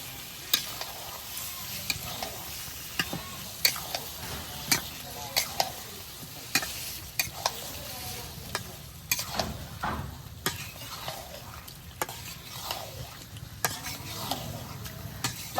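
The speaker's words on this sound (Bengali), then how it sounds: "এখন দিয়ে দিমু কাইটা দিয়ে রাখা মাংস আলু সিদ্ধ একটু দেরি হয় একসাথে দিয়ে দিলাম" Meat and potatoes are stirred and fried in an oily spice paste, with steady close sizzling broken by regular scraping and clinking strokes of a spoon against the pan.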